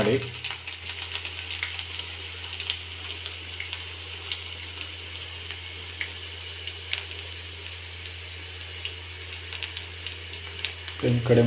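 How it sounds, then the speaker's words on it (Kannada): Garlic fries over a lowered flame in a pan for dal bele sambar, a steady close-up sizzle with faint crackles and stirring scrapes running throughout. "ಆನಂತರ ಬೆಳ್ಳುಳ್ಳಿ ಹಾಕಿ, ಸ್ವಲ್ಪ ಫ್ಲೇಮ್ ಕಡಿಮೆ"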